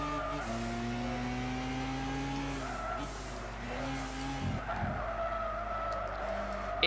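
Touring cars racing in Gran Turismo 6, a steady roar of several engines with sustained tire squeal and skidding across the whole stretch, and shifting engine pitches as the cars jostle close together.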